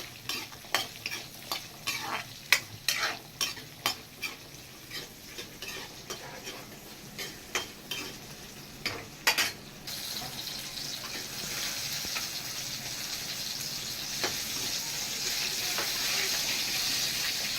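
Coconut roasted in a pan for a goat trotter curry, a run of sharp rhythmic spatula scrapes for about nine seconds, then a softer steady sizzle with occasional taps.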